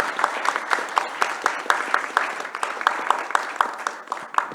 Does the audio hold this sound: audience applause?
yes